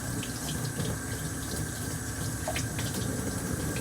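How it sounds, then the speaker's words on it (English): Hot and cold tap water running steadily into a sink while a sieve is rinsed under the stream, a loud continuous hiss and splash without pause. "Turn on the hot and cold water. Put the sieve under it and rinse both sides very well."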